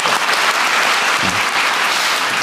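Applause from an audience at a town hall meeting, a dense, steady wash of clapping filling the short stretch without pause.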